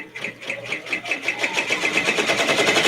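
A sewing machine sews a lock stitch in a fast, regular mechanical rhythm. The pulsing whir is loud and close, and it speeds up and grows steadier as it runs, with no talking over it.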